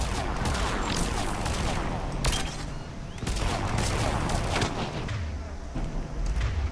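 Dense, continuous bursts of rapid gunfire in Mass Effect 3 with loud cracks and booms, a chaotic battle barrage throughout.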